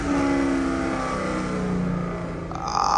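A Red Eye Hellcat engine revs with a smooth rising and falling mechanical drone, close and loud, swelling into a sharper higher-pitched roar near the end, no voices.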